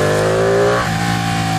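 A Ducati 899 Panigale twin-cylinder sport motorcycle revs loud and close, its deep exhaust note rising and then settling into a rumbling idle.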